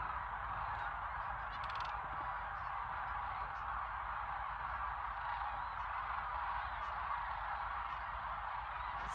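A large flock of geese honking continuously nearby in Fairbanks, Alaska, a dense, steady chorus of calls filling the whole stretch outdoors.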